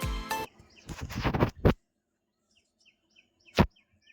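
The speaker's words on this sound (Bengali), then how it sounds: "জানলা খুলে বসে আছি আর এদিকে পাখির ডাক শুনতে পাচ্ছি" A voice speaks briefly, then the room goes quiet while faint, scattered bird chirps come from a distance, broken by one short sharp knock.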